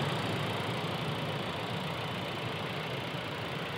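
A 2019 Volkswagen Jetta R-Line's 1.4-liter turbocharged direct-injection four-cylinder idles steadily up close, a smooth, even hum and whir with no change in pace and no voices.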